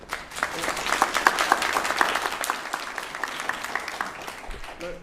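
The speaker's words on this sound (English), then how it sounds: "All applause, please hold on to those" Audience applause fills a zoning advisory board meeting room, a dense wash of many hands clapping steadily for about five seconds, with a few faint voices underneath.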